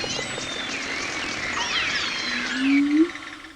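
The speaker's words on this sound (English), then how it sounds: "you have the humpback whales chattering away and just sort of like being jazz musicians" Humpback whales vocalize underwater in a layered chorus of wavering whistles, moans and squeals. The calls swell into a louder rising low groan near the end, set against a constant hiss of ocean noise.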